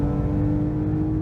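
A car on Nankang CR-S semislick tyres accelerating hard in second gear at nearly full throttle, with a loud, steady engine drone and tonal whine throughout.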